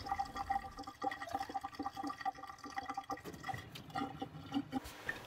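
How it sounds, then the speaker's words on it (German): Filtered water pours into a plastic bottle being filled to the brim, a quiet continuous trickle with gurgling drips throughout, close and without talk. "Die Flasche bis zum Rand mit gefiltertem Wasser befüllen."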